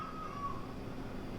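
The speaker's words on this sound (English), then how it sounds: "Sorry, my cat is howling." A domestic cat howls indoors in a drawn-out, wavering cry lasting under a second, fairly faint over a steady background hum, with no talking.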